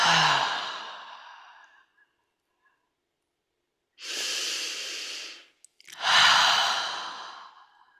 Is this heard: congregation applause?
no